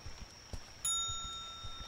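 A bell rings once in the horror game The Bathhouse, a sharp metallic ding that lingers and fades with a steady tone, heard near and alone after a few soft thuds.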